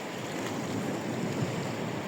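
Rough winter surf on the Black Sea after storms, a steady broadband wash of breaking waves with some wind noise, continuous and fairly close, with no voices.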